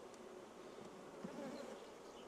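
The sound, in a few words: honey bees buzzing at an open beehive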